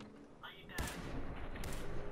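A few sharp, loud gunshots aimed at a deathclaw in Fallout 4, two distinct cracks about a second apart over a low rumble, with a person talking.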